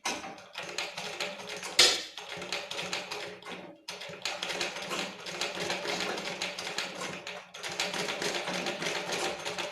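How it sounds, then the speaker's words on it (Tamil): A sewing machine stitches fabric for a homemade face mask, running in steady rattling bursts separated by brief pauses, heard close up with no voices. "இப்போ தைக்க ஆரம்பிச்சிடலாம். இந்த ஓரமாக வச்சு அப்படியே தைக்க போட்டுங்க"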